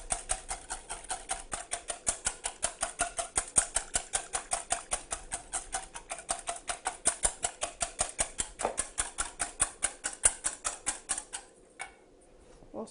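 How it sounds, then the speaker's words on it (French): A whisk beats egg yolks with agave syrup in a bowl, making a fast, steady run of sharp clicking taps for about eleven seconds before it stops. No one speaks. "de sirop d'agave dans les jaunes et nous allons fouetter"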